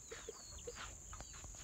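Chickens cluck faintly outdoors, a few short soft calls over a steady background hiss and high whine, with no one talking.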